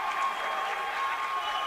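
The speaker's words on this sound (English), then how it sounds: "The crowd salutes" A basketball crowd at a Brookdale versus Middlesex County College men's game claps in steady, dense applause that carries evenly throughout, with no voice standing out above it.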